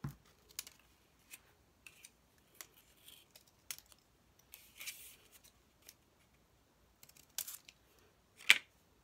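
Scissors cutting cover material for an art journal: a series of short, sparse, crisp snips with pauses between them, close and quiet, ending on one louder snip.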